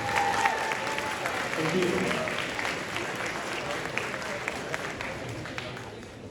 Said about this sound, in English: So a round of applause again for all the alumni and graduating grade 12 this year.